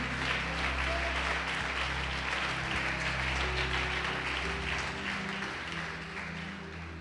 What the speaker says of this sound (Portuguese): Pode aplaudir o Senhor Jesus e glorificar.